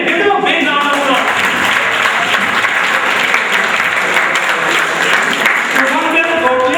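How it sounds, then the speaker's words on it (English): Loud, sustained applause from a quiz audience, a dense wash of clapping that fills the whole stretch without letting up, with some voices mixed in. "Give them a big round of applause."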